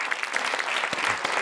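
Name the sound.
audience applause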